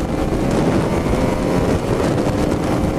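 A KTM Duke 200 motorcycle engine drones steadily while riding, mixed with heavy wind rush against the microphone, loud and continuous.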